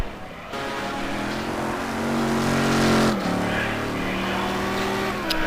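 A Lamborghini GT2 race car engine roars at Imola in a racing game, a loud sustained drone that climbs in pitch, drops briefly at a gear change, then rises again as it pulls away.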